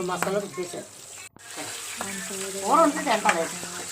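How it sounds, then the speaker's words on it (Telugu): Fish pieces sizzle in hot oil in a pan as they are turned one by one. Scraping and stirring clatter sound over the crackle, with a brief silent gap partway through. "ఒక్కొక్కటి బాగా తిప్పుకొని బాగా ఫ్రై చేసుకోవాలి"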